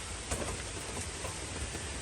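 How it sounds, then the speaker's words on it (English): Rain pours in a steady, dense wash of hissing noise, continuous and even. "as you can probably hear, it is pouring the rain again"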